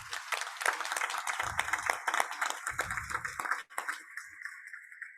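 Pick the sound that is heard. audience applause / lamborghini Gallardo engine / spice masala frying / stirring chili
audience applause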